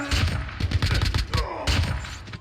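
Rapid gunfire in a shooter video game crackles in a dense, uneven burst of close shots, pauses briefly, then resumes with more sharp reports and a whizzing streak as bullets fly past.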